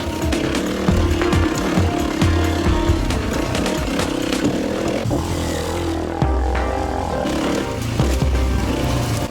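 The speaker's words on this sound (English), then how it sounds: "After my super light 2-stroke back home, I'm finally coming to grips with the big Yamaha" Big Yamaha adventure motorcycle riding on dirt tracks in Cambodia, its engine roaring loud and continuous, revving up and down, with wind noise throughout and no talk.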